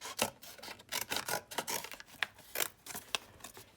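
Scissors or a blade cutting cardboard along a marked line for an engine-mount bracket template, a close series of short crunching snips and rasps in an irregular rhythm.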